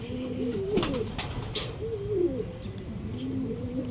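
Racing pigeons coo nearby in soft, repeated throaty calls, a few overlapping, with a brief flutter or clatter partway through, at a club training in Paete, Laguna.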